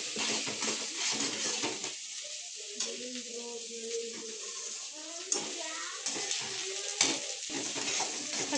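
Ginger garlic paste fries in a pan on a gas stove in a home kitchen. A close, steady sizzle runs throughout, with someone speaking over it and occasional utensil clinks.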